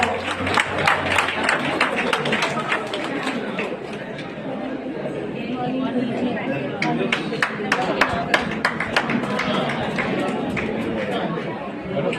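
An audience at a festival inauguration in Satara breaks into sustained clapping and applause, a dense crowd sound with crowd chatter and a voice speaking over it.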